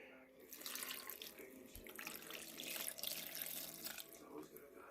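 Water pours into a bread maker in a steady, splashing stream for several seconds, close by and fairly loud.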